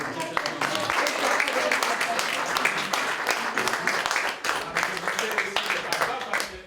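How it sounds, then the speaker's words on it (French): A church congregation in Jauche applauds during a visit by a bishop, a lively crowd of clapping hands at moderate volume with voices mixed in beneath. "On peut applaudir"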